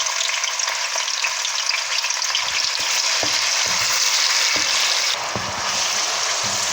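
Tomatoes fry with golden-browned garlic in a pan, making a loud, dense, unbroken sizzle throughout. Occasional soft stirring knocks sound beneath it.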